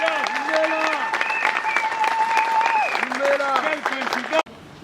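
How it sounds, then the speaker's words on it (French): A crowd applauds a head of state at a commemorative anniversary gathering of the Génération Kabila, sustained close clapping mixed with cheering voices and ululating calls, stopping abruptly near the end. "Applaudissez pour le chef de l'État."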